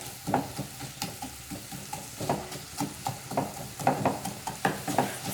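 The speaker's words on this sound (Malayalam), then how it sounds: "ഇതിലേക്ക് ആവശ്യത്തിന് ഉപ്പിട്ട് കൊടുക്കാം. നന്നായിട്ടൊന്ന് ഇളക്കി കൊടുക്കാം." Thinly sliced onions with salt frying in a pan and stirred: a steady sizzle broken by regular scraping strokes of a spatula against the pan, close and moderately loud, with no speech.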